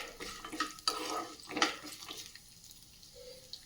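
A spoonful of sesame seeds being stirred and dry-roasted in a pan for an idli and dosa chutney, giving a few close scraping, rattling strokes in the first two seconds that fade to quiet.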